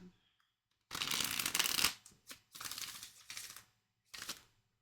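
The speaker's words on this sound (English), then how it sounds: "Just shuffle the cards correctly, okay?" Tarot cards being shuffled in a fast riffling burst, then several shorter shuffles with brief pauses between them, close by.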